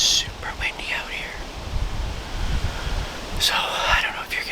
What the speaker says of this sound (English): it is windy, windy, windy. Got 20-mile-an-hour winds.